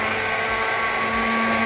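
Blender whirring steadily through seedy fruit for a Persian fruit leather, a constant close motor drone with no pauses or talk.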